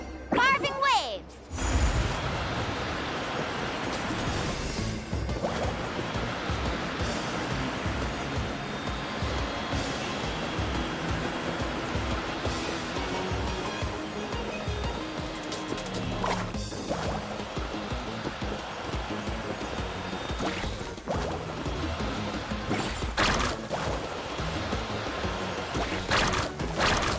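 Mualani surfs and carves through waves in Genshin Impact, a continuous rushing water and spray wash with periodic surging swishes from the carving, a brief voice near the start.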